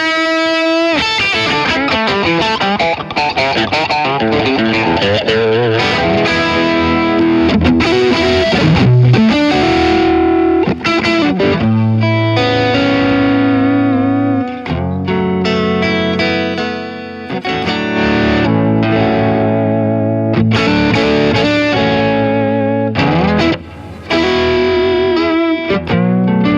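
Electric guitar played through a Kemper amp profile with the gain turned up, a distorted, chorus-tinged tone carrying sustained chords and single notes continuously and loudly, with no talking.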